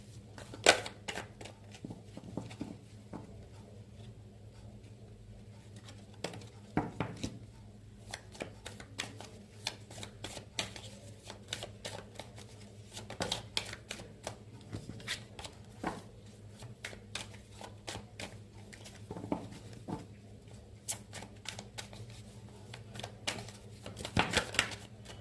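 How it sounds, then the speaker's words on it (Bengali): Tarot cards are shuffled and drawn by hand in a quiet room, giving a long run of soft, close riffles, slaps and flicks in an irregular rhythm, with no talk. "একসঙ্গে সব কার্ডগুলো নিয়ে নেবো, নিয়ে দেখবো।"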